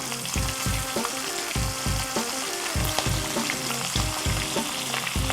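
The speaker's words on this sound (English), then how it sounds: "in the same pan, we're gonna do the Portuguese sausage" Portuguese sausage sizzles in a hot pan, a dense steady crackle with rhythmic low thumps as the pieces are moved and stirred, close and fairly loud with no talking.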